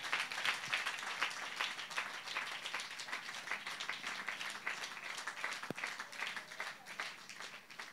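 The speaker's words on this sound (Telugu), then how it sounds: "చప్పట్లు కొట్టి ప్రభునామమును మహిమపరుద్దాం." A church congregation at a Sunday service claps together in a steady, rapid rhythm, a continuous bed of many hands heard from some distance at moderate level, with a brief sharp knock partway through.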